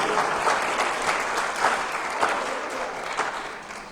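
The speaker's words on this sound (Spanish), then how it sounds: "Denle un aplauso a Dios" Sustained applause from a church congregation, steady and fairly loud, with dense clapping throughout and no clear voices.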